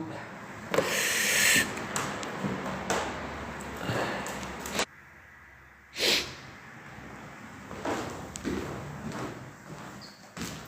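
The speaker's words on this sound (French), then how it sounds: "Alors ça c'est un pigeon ramier." Inside an abandoned warehouse, a common wood pigeon coos in soft, low hooting phrases. Loud rustling bursts and thumps break in around them, and quieter stretches come between.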